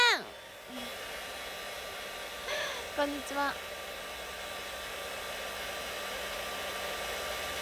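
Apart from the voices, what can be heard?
dryer drying nails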